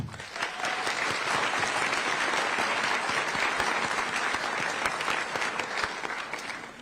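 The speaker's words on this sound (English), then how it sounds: "So round of applause there." An audience applauds steadily, a dense clapping that holds for several seconds before tapering slightly.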